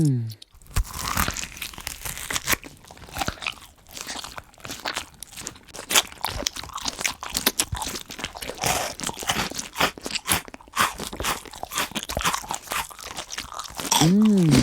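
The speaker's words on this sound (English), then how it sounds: "Mantis eating a cockroach." A mantis eats a cockroach with dense, continuous crunching and tearing bites, close and fairly loud, running unbroken for about fifteen seconds.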